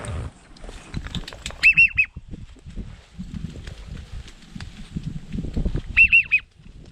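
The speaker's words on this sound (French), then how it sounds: "Là, il y a une grosse volée de colvert qui passe." A large flock of mallard ducks passes over a Minnesota marsh during an October hunt, giving two short bursts of quacking calls some seconds apart, mid-distance, over a low rumble of wind and movement.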